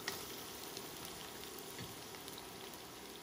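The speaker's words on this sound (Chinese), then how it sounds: "把刚才的这些配料都炒一下，冬菇先炒香" A wok of shiitake mushrooms, carrot and chili fries in a small amount of oil, giving a constant, close crackling sizzle with light popping spatters throughout.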